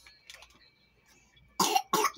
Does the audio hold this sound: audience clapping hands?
no